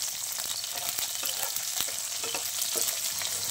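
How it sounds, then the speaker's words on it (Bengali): Black cumin, garlic and green chillies fry in a pan of hot oil with a steady, close crackling sizzle and occasional stirring clicks, and no voices. "কালো জিরে, রসুন আর লঙ্কাটা আমার অল্প ভাজা হয়ে গেছে"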